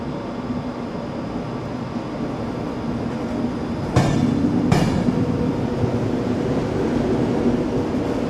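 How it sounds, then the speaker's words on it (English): Low rumble of a train rolling into a station platform, with two sharp clanks partway through and a steady, slightly louder rumble continuing afterward. "Here's the train right now"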